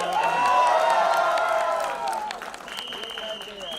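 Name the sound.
audience applause and cheering at a film trailer launch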